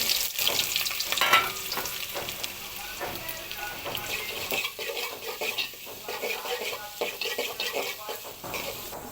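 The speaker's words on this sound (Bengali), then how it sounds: "এখন এখানে আমি তেলের ভেতরে পেঁয়াজ কুচি দিয়ে দিচ্ছি" Chopped onions fry in hot oil in a pot for a beef dish, a steady crackling sizzle throughout with occasional stirring clatter, close and moderately loud, with no speech.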